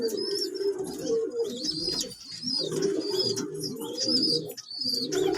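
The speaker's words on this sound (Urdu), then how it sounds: "یہ دوسرا کبوتر ہے، یہ بھی خوراک دے رہا ہے، وہ مانگ رہے ہیں ان سے دونوں بچے۔" Pigeon chicks beg for food from a parent pigeon in a loft: continuous near cooing and rough, wheezy squeaking with repeated high peeps, loud and close throughout.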